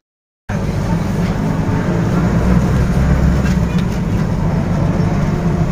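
A passenger train in motion, heard from inside as a loud, steady low rumble and rattle after a moment of silence at the start, with no voices.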